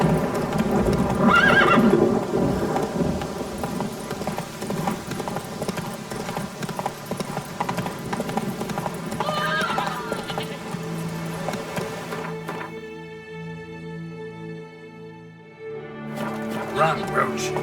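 Roach, the horse in The Witcher 3, gallops with rapid hoofbeats and lets out loud neighs, mixed with game music and a voice talking, then the hooves fade briefly before resuming.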